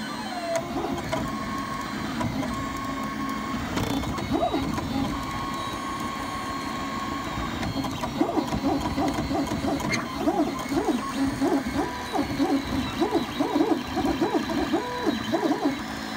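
A 3D printer printing a fan holder, its stepper motors whining and warbling in rising and falling melodic tones with mechanical clicks, heard up close and steady throughout.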